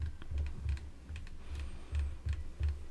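Light typing on a computer keyboard, a quick irregular patter of soft close clicks for a few seconds with no voice over it.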